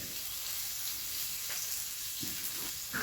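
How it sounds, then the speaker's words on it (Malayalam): Finely chopped ginger, shallots and green chillies sautéing in a pan, a steady soft sizzle with a few brief stirring scrapes near the end; no talking. "ഇഞ്ചി ചെറിയ ഉള്ളി പച്ചമുളക് ഇത്രയും അരിഞ്ഞത് പൊടിയായിട്ട് അരിഞ്ഞ് ചേർക്കുക ഇത് നന്നായിട്ട് വഴറ്റുക"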